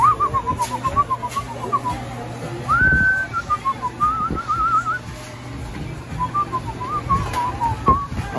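A person whistles a wandering, tuneful melody in clear sustained notes, with steady background music and street ambience underneath on a Brooklyn street in Carroll Gardens.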